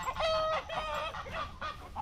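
A farmyard rooster clucks and makes a throaty, crowing-like call up close, with a series of rapid vocal bursts over about two seconds, fairly loud with no talking.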